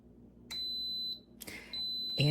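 An Instant Pot pressure cooker gives two sustained electronic tones, a long steady beep followed by a second one after a short gap, with a bump of handling noise between and a voice starting at the end.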